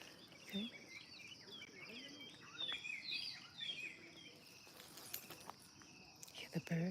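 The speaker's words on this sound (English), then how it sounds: "Hear the birds?" Faint birdsong outdoors on a morning, scattered chirps and tweets at a distance, with soft rustling and footsteps nearby and a quiet voice at times.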